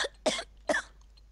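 Three sharp, close coughs from one person, spaced irregularly with short gaps of quiet between them.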